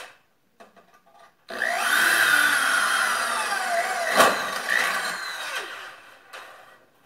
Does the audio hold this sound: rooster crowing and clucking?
no